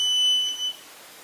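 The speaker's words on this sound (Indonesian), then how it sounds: "Ketika buzzer menyala," A buzzer on a touchless IoT doorbell gives one steady, shrill electronic beep lasting under a second, then cuts off, leaving only faint background hiss.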